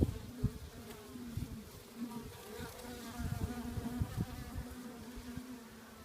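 Honeybees buzz inside a top-bar beehive during an inspection on day 11, a faint, continuous droning hum from many insects heard close up with no voices.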